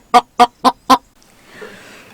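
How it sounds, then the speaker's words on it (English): Hens laying eggs cluck four times in an even, quick rhythm, loud and close, then fall to a low, soft murmur. "Looks like the hens are trying to lay eggs."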